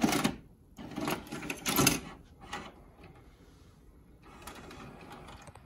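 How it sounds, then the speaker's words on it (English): A VHS tape is loaded into a VCR, producing soft mechanical clunks, whirs and clicking of the transport mechanism, fairly faint and close, with no talking. "Now we'll pop in a tape."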